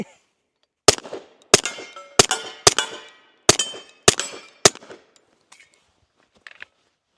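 Seven sharp, loud pistol shots from a Nighthawk Custom Colt M45A1 crack out at irregular intervals, each ringing briefly before fading, followed by a few quieter metallic clicks and clinks.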